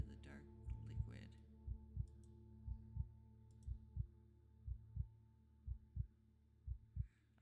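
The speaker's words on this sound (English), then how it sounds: "I hear a heartbeat." Heartbeat from the video game The Children of Clay: a steady, low, throbbing double-beat pulse repeating about once a second over a faint hum, with brief voice fragments early on.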